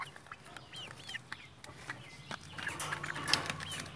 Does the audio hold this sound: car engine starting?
no